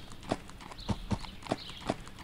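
Horse hooves clip-clop in the video game Die Pferdebande in an uneven walking rhythm, with about six hollow knocks in quick succession. The steps are faint and close, and a few soft higher tones sound between them.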